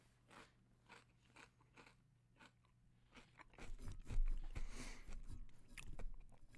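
Close, crunchy chewing right at the microphone, a run of bites and crackly mastication that starts soft and grows louder and denser toward the end.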